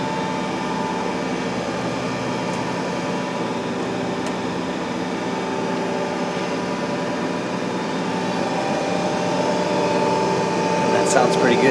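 Spindle of a Haas TM-1 CNC tool room lathe spinning up, giving a steady whirring mechanical drone with layered hum and whine that stays even and close throughout, with no talk over it.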